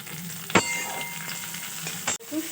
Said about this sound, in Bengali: আদাটা ভাজা হয়ে গেছে, এবার টমেটোগুলো দিয়ে দেবো।